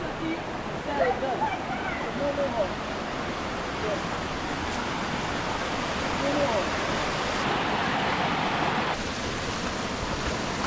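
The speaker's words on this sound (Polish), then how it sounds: "Już słychać wodospad." A waterfall on a rainforest path in Dominica gives a steady broadband rush, like distant surf, that stays constant throughout with faint bird chirps above it.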